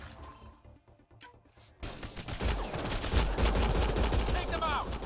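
Gunfire in the sci-fi shooter Mass Effect: Andromeda breaks out after a quiet start: dense, rapid bursts of shots layered with loud, chaotic combat noise that keeps going to the end.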